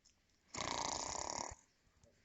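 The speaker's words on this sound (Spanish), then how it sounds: "Ronquido." A single drawn-out snore rasps for about a second, loud and close against a quiet background, used as a sound effect during a children's story reading.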